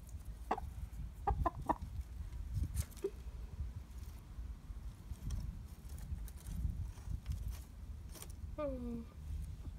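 Chickens cluck close by while sharp, scattered pecking taps sound as they peck at a dead mouse, over a low rumbling background, with one louder squawk near the end.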